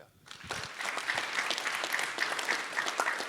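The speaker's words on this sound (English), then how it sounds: "Clap it up" A panel audience breaks into steady applause, the clapping rising after a quiet start and continuing at an even, moderate level to the end.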